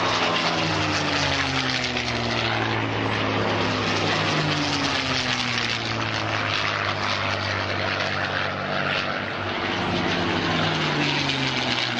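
Vintage warbird propeller aircraft flying at the Shoreham airshow, a loud continuous engine drone with shifting pitch as the planes pass overhead, steady throughout.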